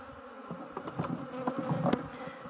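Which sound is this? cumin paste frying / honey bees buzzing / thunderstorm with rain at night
honey bees buzzing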